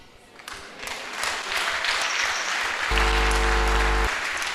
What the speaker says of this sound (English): thank you for clapping, the acknowledgement